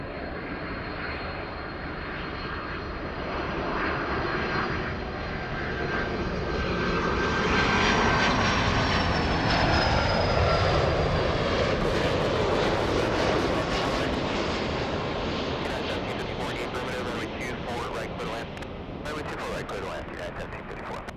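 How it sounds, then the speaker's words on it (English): A Delta Boeing 767-400 takes off at LAX, its jet engines building from a distant rumble to a loud roaring peak at mid-clip, then receding as it climbs, with a voice talking faintly over it. "Let's go for the Delta 767 from JFK."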